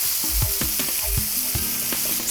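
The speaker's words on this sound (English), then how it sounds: "Saute the onion until they soften and they start to go light golden brown." Onion sautéing in oil with curry leaves, a steady close sizzle broken by repeated low knocks and scrapes of a spoon stirring the pan.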